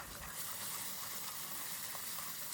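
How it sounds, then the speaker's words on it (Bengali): Spices with ginger-garlic paste frying and being stirred in a pan for a Bengali wedding-style chicken roast, a faint steady sizzle with soft stirring, low and continuous throughout. "এখন মশলাগুলো নেড়েচেড়ে মিক্স করে একটু কষাতে থাকি"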